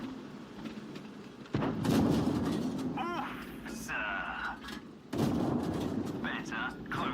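Tank guns in a video game battle, heard as two heavy booming shots a few seconds apart with a rumbling tail. Someone talks throughout, and other game sound effects play between the shots.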